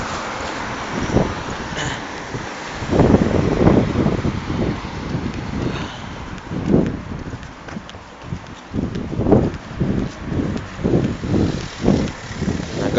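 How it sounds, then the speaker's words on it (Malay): Gusty wind buffets the microphone in rough, uneven bursts, loud and close, with low rumbling thumps rising and falling throughout. "Agak berangin di sini."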